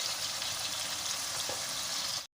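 Potato and egg curry masala frying in a pan with ground red chilli and turmeric, giving a steady, dense sizzle and hiss that runs evenly without a break before cutting off abruptly at the end.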